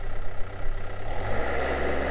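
Excavator engine droning steadily with throttle turned up, a continuous low rumble that rises slightly in pitch and intensity, loud and close with no talk.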